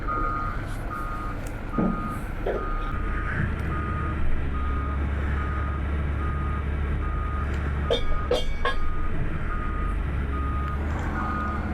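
A truck at a construction site with an excavator nearby emits steady repeating reversing beeps over a loud continuous engine rumble, with a few sharp clanks along the way.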